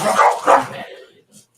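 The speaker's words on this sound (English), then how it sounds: "Jeez, that was some aggressive barking they were making" A pair of dogs bark aggressively in two sharp, loud, close barks followed by a brief fading yip.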